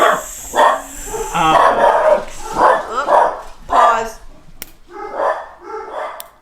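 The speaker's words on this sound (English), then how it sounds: "Dogs are barking, guys." Several dogs bark in repeated close bursts, sharp woofs and yips in an uneven rhythm, mixed with people talking over them.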